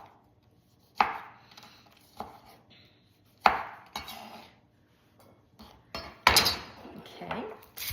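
Knife chopping tomato on a cutting board, a handful of sharp separate chops spread out with quiet gaps between them, close and moderately loud.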